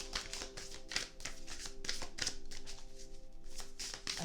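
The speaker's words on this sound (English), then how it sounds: "I have to shuffle them a little bit differently" A hand shuffles a deck of slippery tarot cards with a steady run of soft riffling flicks and rustles. The sound is quiet and close.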